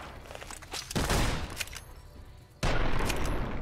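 Gunfire rattles through a Bethesda wasteland video game, two dense loud volleys, the second starting abruptly and continuing to the end, with no talking.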